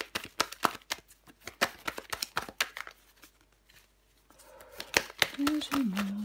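Tarot cards shuffled by hand with a rapid run of crisp, close riffling flicks, pausing briefly before more shuffling as a voice begins speaking near the end.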